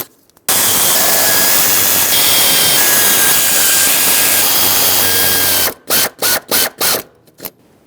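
A powered ratchet with an 8mm socket snugs the valve cover bolts on a 2011-2018 Ram 2500 6.4L V8, starting from the center. It gives one long, loud, steady whir, then several short, sharp bursts close by.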